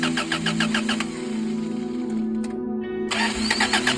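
A vehicle engine cranking with a rapid repeated starter whir, stalling briefly into a quiet gap, then cranking again and catching into a rough idle, close by with no talking.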